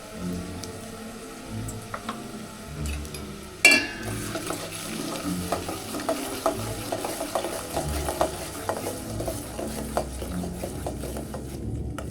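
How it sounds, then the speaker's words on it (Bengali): Homemade hair oil with chopped onion is stirred continuously in a pan over medium-low heat, a soft frying hiss broken by scattered scraping clicks and one sharp clank, fairly quiet throughout. "কন্টিনিউয়াসলি কিন্তু আমাদের নাড়তেই থাকতে হবে"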